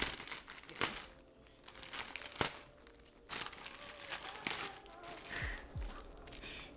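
A plastic wig package gets torn open by hand, with crinkling and rustling broken by sharp rips and crunches, close up, and breathy sounds in between.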